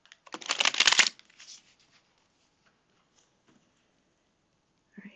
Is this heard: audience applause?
no